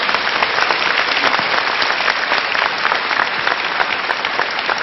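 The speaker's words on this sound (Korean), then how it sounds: "박수로 좀 환영을 해주세요" A studio audience at a Korean lecture show applauds to welcome the speaker's father, a loud, dense, sustained wave of clapping filling the room evenly from start to finish.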